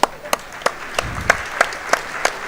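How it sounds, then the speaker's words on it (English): Applause for two boxers at the Eindhoven Box Cup 2026 final, heard as a series of sharp, evenly spaced claps ringing out in a large arena, with a low murmur underneath. "give these two fighters a big applause"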